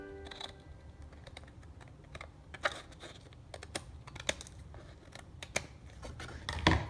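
Scissors snip away excess paper in a kids' craft project, a scattered series of short, crisp clicks and cuts close by with quiet gaps between them and a louder snip at the end.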